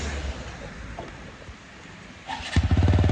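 A motorbike engine idles low on a mountain road, then revs up with a sharp rise near the end into a rapid, throbbing pulse, close and fairly loud.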